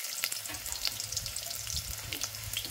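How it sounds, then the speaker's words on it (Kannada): Two long-cut onions frying in hot oil, a bright crackling sizzle with frequent small pops and spits, steady and close throughout with no voices. "ಈಗ ಉಳ್ಳಾಗಡ್ಡಿ ಫ್ರೈ ಆಗಿ ನೋಡ್ರಿ"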